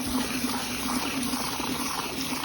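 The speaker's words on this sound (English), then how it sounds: "So now I'm gonna fill the rest of the bucket up with water" Water gushes steadily into a bucket in a greenhouse, a continuous low rushing and churning with no pauses.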